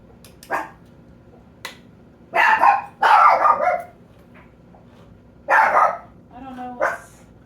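A dog barks in several sharp, close bursts separated by pauses, with a couple of quieter yips in between.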